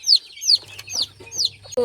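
High, repeated peeping chirps from small chicks, close by, with a low hum underneath and a brief louder knock at the end.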